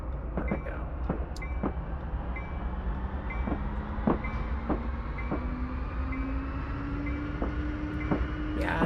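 A CSX locomotive rolls along the rails while road-switching on the Hanover Subdivision, a steady low rumble with evenly spaced clicks of wheels over rail joints and a faint rising engine tone underneath.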